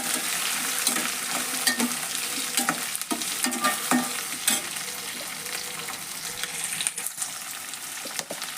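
Green chillies frying in hot oil for a cabbage and capsicum palya, a continuous crackling sizzle with frequent spoon scrapes and stirring clatter against the pan, close and fairly loud.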